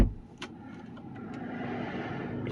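A Volkswagen car's engine fires up by push button start with a brief starter whir, then settles into a steady low idle heard from inside the cabin.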